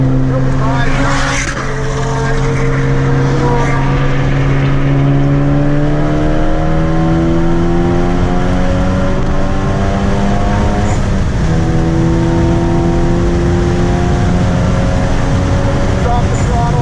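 A Ford Focus ST at full throttle on a track day, its loud engine note rising steadily through the gears with clear harmonic sweeps and brief dips at shifts, close and continuous.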